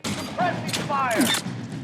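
Suppressing gunfire in an L.A. Noire shootout, a burst of shots ringing out under someone shouting over the fight.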